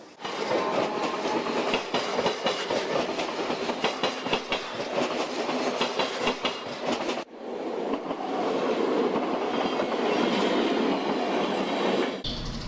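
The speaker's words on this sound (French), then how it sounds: "Plus loin, les trains défilent." Trains rolling past near a Dutch railway line, a steady rumbling clatter of wagons that fills the stretch, dips briefly at the midpoint, then resumes as another train runs by.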